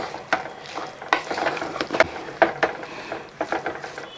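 Spiced beef is stirred in a pan in quick, uneven scrapes and knocks of a spoon, close up, with a soft sizzle underneath and no speech.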